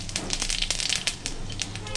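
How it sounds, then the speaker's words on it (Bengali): Whole cumin seeds dropped into hot oil left from frying fish, crackling and popping in quick bursts close up for a brief moment, with the cook's voice partly heard over it. "এই মাছ ভাজার তেলেতেই আমি একটু আস্ত জিরে দিয়ে দিলাম"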